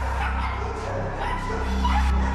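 Several dogs barking and yipping at a licensed dog-breeding farm in Ceredigion, Wales, a steady mix of barks and whimpers at moderate distance under a low background rumble.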